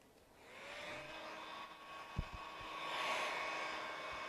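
A heat gun blows a steady, faint airy whir while heat-molding window tint film on a car's rear window, swelling slightly toward the end, with a couple of soft taps and no talking.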